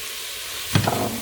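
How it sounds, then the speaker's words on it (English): Cabbage hits a hot pot for minestrone with a sudden loud sizzle that sits over a constant frying hiss and a brief stir, up close. "Right, so now the cabbage goes in."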